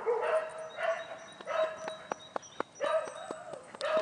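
A dog gives short yips and playful barks while romping with a puppy at a dog daycare, several close, fairly loud bursts in an uneven rhythm with brief gaps, no talking.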